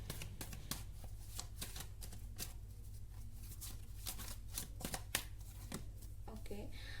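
Tarot cards shuffled continuously, a rapid run of crisp papery riffles and flicks close up over a steady low hum, with no talking.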